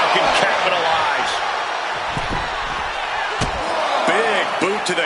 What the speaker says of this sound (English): Big boot to the gut and a thunderous forearm to follow.